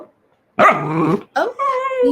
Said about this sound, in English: She's barking at me now.